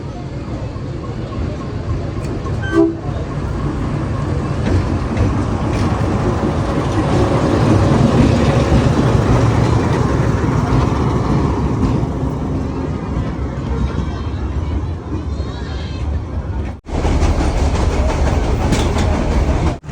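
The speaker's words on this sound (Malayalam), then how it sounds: "ട്രെയിൻ ഇപ്പോൾ സസംഗീർ റെയിൽവേ സ്റ്റേഷനിലെത്തിയ ഒരു ക്രോസിംഗ് ആണ്. വെരാവൽ അമ്രേലി പാസഞ്ചർ." A Veraval–Amreli passenger train on a century-old line rolls into Sasan Gir railway station, a loud, steady rumble of wheels and carriages with clattering over the rails, briefly cut off near the end before resuming.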